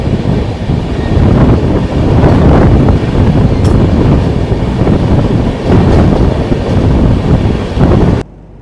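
A loaded coal freight train passing near Nagpur, a loud continuous rumble of wagons with rhythmic rail clatter and wind buffeting, heard close by until it cuts off abruptly.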